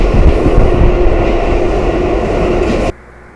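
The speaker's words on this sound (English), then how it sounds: "And the train was coming from where he came in from." Loud, sustained roar and rumble of a train in a rail tunnel, a dense broadband wash that holds steady for about three seconds and then cuts off abruptly into near quiet.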